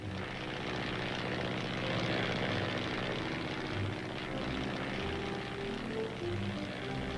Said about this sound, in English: The tower gives him clearance, and the plane starts moving across the airstrip.